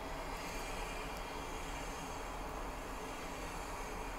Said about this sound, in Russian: Ну, поезда довольно сильно шумят.